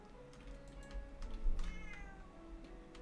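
A female cat meows nearby, a few drawn-out whining calls in the middle, quiet and close over soft ticking and tapping indoors, no one talking.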